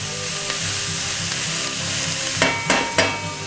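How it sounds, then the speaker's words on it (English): Onions and bell peppers sizzle steadily in a pot as the base for a shrimp stew, a loud continuous frying hiss close up, with a few sharp scraping stirs near the end. "Now that you got your onions and bell peppers simmering on there, getting a little color to them, making them clear"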